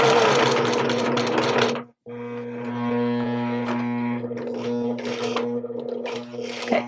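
A domestic sewing machine stitches the waist of a pair of jeans with a steady, close motor whir. It stops for a moment after about two seconds, then runs on with light mechanical clatter.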